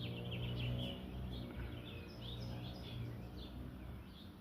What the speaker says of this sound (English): When the squirrel is around, you can hear the birds.